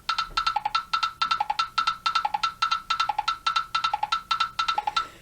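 A metronome clicks in a quick, steady pulse at 160 beats per minute, with a brighter accent recurring in a repeating pattern over lower ticks.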